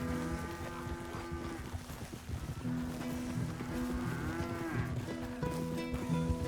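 Several cows moo in Red Dead Redemption, long, drawn-out lowing calls, overlapping and steady against a continuous low background hum.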